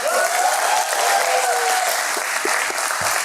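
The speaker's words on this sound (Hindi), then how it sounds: "पहले तो मैं चाहता हूं कि तुम सब अपने लिए एक बार ताली बजा दो" Contestants in the reality show house clap for themselves, a steady burst of close applause with a few louder individual claps near the end.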